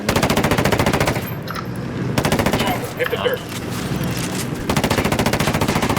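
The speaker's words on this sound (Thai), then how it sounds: "ยิงก่อนยิงยิงชัปเปอร์ก่อน" Rapid automatic gunfire in the video game Ghost Recon Wildlands, loud machine-gun bursts of evenly spaced shots broken by short pauses across several seconds.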